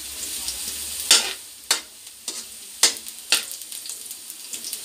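Ginger frying in a pan for seafood caldereta, a steady sizzle broken by about five distinct scraping stirs at uneven intervals, close and fairly loud, no talking.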